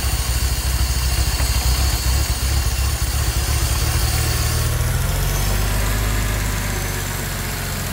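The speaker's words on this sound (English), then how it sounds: "You're going to take your cap off. You're going to hear the engine drop." A Porsche 996 engine idles steadily up close with its oil filler cap removed, a loud even rumble that settles into a lower, slightly quieter note partway through, with no talk.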